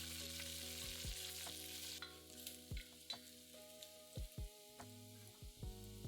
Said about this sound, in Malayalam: 3 പച്ചമുളക് കീറിയത്, ഒരു ചെറിയ കഷ്ണം ഇഞ്ചി ചതച്ചത്, 3 വെളുത്തുള്ളി അല്ലി ചതച്ചത്, കുറച്ച് കറിവേപ്പില, ഇത്രയും ഇട്ട് 1 മിനിറ്റ് മൂപ്പിക്കുക.